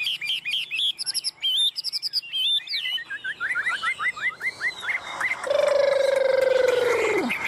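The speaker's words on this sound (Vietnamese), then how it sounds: "Không phải con chim nào mà anh em lắc như này nó cũng dám đứng cầu nó hót đâu nhá" A Chinese hwamei sings up close, pouring out rapid, varied whistled phrases and trills that end in a long, loud, sliding whistle.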